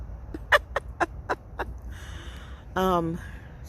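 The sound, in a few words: two birds calling to each other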